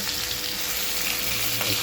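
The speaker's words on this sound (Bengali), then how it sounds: "এই দুটো মাছও ভাজা হয়ে যাচ্ছে।" Pomfret fish frying in a pan of hot oil, a steady dense sizzle close by throughout, with no one talking.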